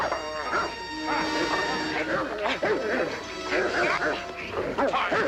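A dog barks and snarls excitedly at close range, with overlapping shouting voices and scuffling throughout.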